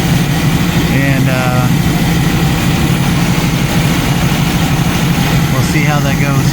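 A warmed-up 1990 Jeep YJ with a 4.2L engine and new carburetor idles steadily, a loud, even low rumble throughout, with a voice talking briefly over it.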